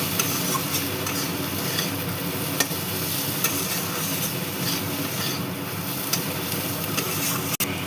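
Chopped tomato and spices, including Kashmiri chilli powder, get stirred in a frying pan: a dense, continuous sizzle with repeated spoon scrapes and clicks, close and steady, with no voices.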